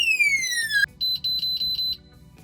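A Quaestor electronic safe's alarm, triggered by three wrong code entries, sounds: a falling tone sweep, then a string of six rapid high-pitched beeps, close and clear.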